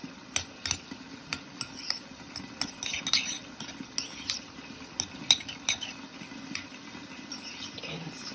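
A utensil stirs cooked quinoa rice in a bowl, giving a steady run of light clinks and scrapes at close range, with no one speaking.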